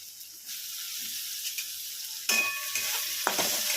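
Chopped onion sautéing in hot oil in a pan gives a steady close sizzle, with the hiss brightening and growing louder midway as stirring scrapes and clatters through it.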